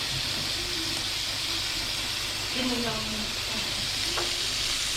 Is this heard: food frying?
yes